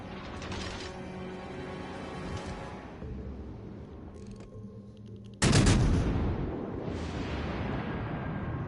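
Warship guns firing in World of Warships Legends, a dense rumble of distant naval gunfire building to one sharp, loud salvo about midway, then a sustained heavy roar.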